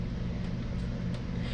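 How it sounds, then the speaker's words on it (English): A steady low whir of an electric fan running in a humid room, faint and constant with no other sounds. "So please excuse the fan in the background."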